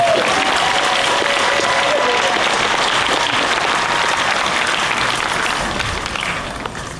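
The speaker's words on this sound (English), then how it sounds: "Can we get another big round of applause for our amazing volunteer community band?" A crowd at an outdoor Flag Day monument dedication gives a big round of applause for a volunteer community band, the dense clapping loud and sustained before tapering slightly toward the end.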